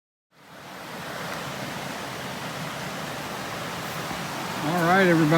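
A river along a hiking trail in Maine rushes as loud, steady, broad flowing water, with a voice starting over it near the end.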